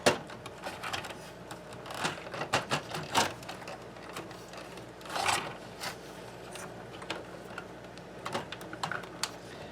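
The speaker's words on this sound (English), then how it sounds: "Now I'm going to try to just move this circuit board a little bit out of the way." Circuit board shifted around inside an opened Sony HST-221 cassette deck, giving scattered small plastic clicks, taps and rattles, close and fairly quiet, some in quick bursts, over roughly ten seconds.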